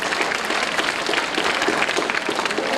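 An audience at a school science fair exhibition opening claps continuously and briskly in a dense, loud wash of many hands that lasts the whole moment.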